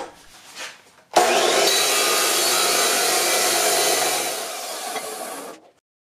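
A steel upright post for a bench grinder stand is cut off with a power tool, a loud, steady abrasive whine running about four seconds alone before stopping.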